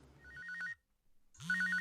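A phone ringtone goes off on a construction site where a worker at height is loosening guardrail fittings. It plays as two close bursts of pulsing electronic ringing separated by a short quiet gap, fairly loud, with no speech.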